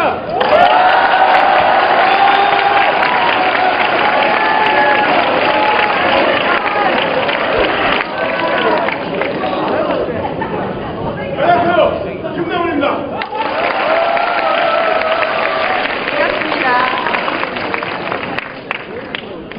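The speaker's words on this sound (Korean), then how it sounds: "자, 기립박수 해주셔야 돼." Students at a school talk event cheer and clap as a male guest enters for a standing ovation, a loud, steady crowd roar with shouts running throughout and voices mixed in.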